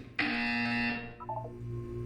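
A steady electronic buzzer in the video game Portal 2 blares for about a second, loud and harsh, then fades into a low hum.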